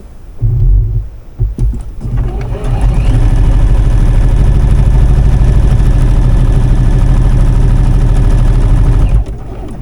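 A sewing machine stitches a crazy-quilted cushion for an upcycled folding chair. A few loud clicks come first, then the motor runs with a steady, rapid, close-up whirring hum for about seven seconds before it stops abruptly.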